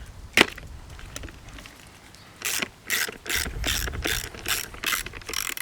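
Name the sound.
ratchet loosening a bolt on a Citroen 2CV damper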